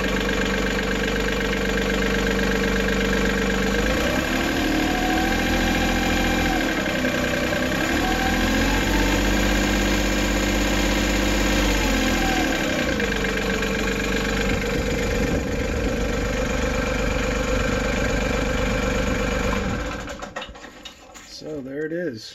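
An MT225E engine fitted with an upgraded fuel filter cranks and catches, then idles with a steady, close hum and rising and falling revs before cutting off near the end.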